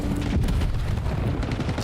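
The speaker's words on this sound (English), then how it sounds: "Gio gets hit by what felt like 4 grenades and then eventually gunfire." Grenade blasts and gunfire in a competitive multiplayer shooter match, a dense, loud wash of booming explosions and rattling shots that runs continuously with no clear breaks.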